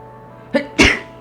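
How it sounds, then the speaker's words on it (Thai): A single close sneeze, a quick sharp intake followed by a loud burst, alone in a quiet room. "โอ้โห จาม จามนิดหน่อย"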